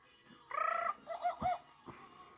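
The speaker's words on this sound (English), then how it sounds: "You will know it is time to turn the page when you hear the jungle bird call like this." A bright chiming jungle bird call used as a page-turn signal, a quick rising trill followed by a couple of shorter chirps, clear and close against a quiet background.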